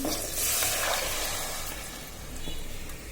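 Soaked ground spice paste sizzles and fries in a pan for a Bengali vegetable dish of surma fish head with beans and radish, a steady close hiss with light stirring scrapes and no talk.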